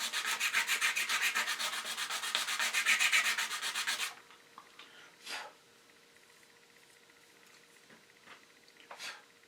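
Rapid rhythmic sanding on a resin model car part, a close, bright scratchy rasp lasting about four seconds, then quiet with a few faint knocks and handling sounds.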